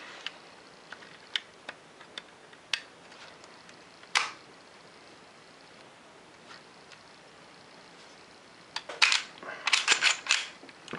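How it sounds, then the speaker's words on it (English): An HK P30 pistol slide being removed and reinstalled gives scattered sharp metallic clicks, a louder clack near the middle, then a dense cluster of scraping, clattering metal-on-polymer sounds, close with no talk. "when you want to reinstall the slide, you just line it back up with that portion and re-push it through"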